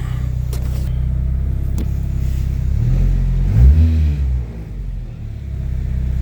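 Honda Civic EK engine revving, a deep steady idle rumble that swells briefly as the throttle is blipped, then settles back, close and loud, with no talk over it.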